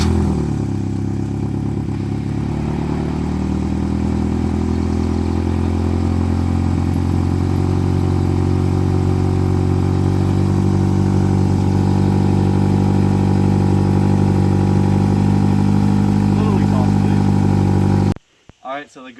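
A turbocharged Honda K24 engine in an EP3 cranks, catches and settles into a loud, steady idle that runs for many seconds before cutting off abruptly, followed by a brief voice.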